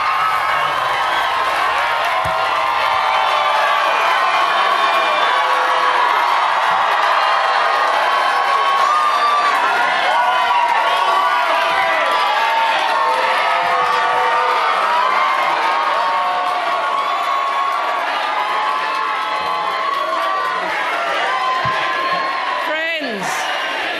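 A large crowd cheers, shouts and whoops nonstop at a Labor Party rally on Australian election night in 2025. The roar is loud and dense, with voices rising over it throughout.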